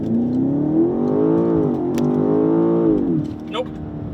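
A 2024 BMW X5 M Competition with a JB4 tune revs hard as it accelerates, its engine note climbing steadily, dipping at a gear change and climbing again before easing off, loud and close throughout.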